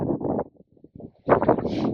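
Strong wind gusts buffet a wild campsite at night in the Peak District, roaring in loud bursts with brief lulls between them, close to the microphone.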